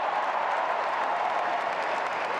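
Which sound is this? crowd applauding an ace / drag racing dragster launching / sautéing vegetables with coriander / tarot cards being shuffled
crowd applauding an ace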